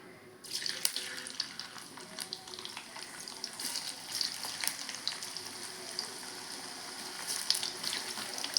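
French fries crackle and sizzle steadily in hot oil, a dense bubbling hiss with scattered sharp pops that stays close and fairly even throughout, with no voices.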